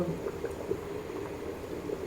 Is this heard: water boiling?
yes